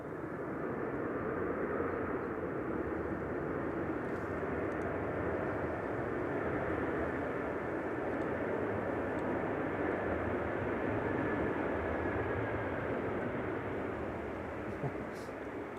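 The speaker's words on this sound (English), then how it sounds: "Got the EasyJet from Marrakesh coming in next" An EasyJet airliner arriving from Marrakesh at Manchester Airport gives a steady, broad jet roar that stays fairly even and moderately distant throughout, with faint talk underneath.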